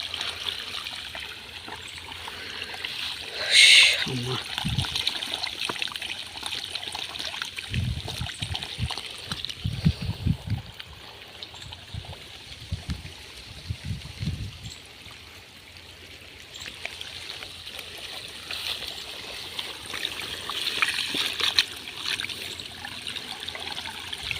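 Water gushing from a motor-driven pump on a farm field runs as a steady, moderately loud stream throughout, with a few low thumps and a brief sharper splash early on.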